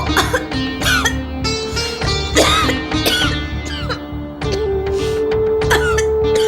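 Several harsh coughs burst out close by over steady background music and noise, uneven and spread across the clip.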